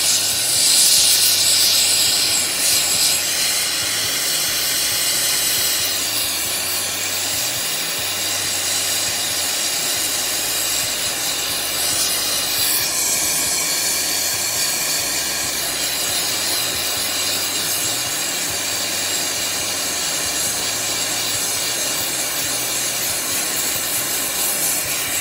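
A torch flame melting silver and copper together to alloy them, a steady, loud roaring hiss that runs continuously with slight shifts in tone and no talk.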